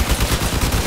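Rapid gunfire from vehicle weapons in the Crossout combat game, a dense, continuous rattle of shots with heavy low thumps, loud and steady through the whole moment with no talk.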